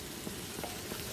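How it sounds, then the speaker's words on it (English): Brown sugar hitting a hot pan on a Coleman camp stove, giving a brief steady sizzle and crackle with soft popping, close and alone without any voices. "I'm gonna add my brown sugar to the pan."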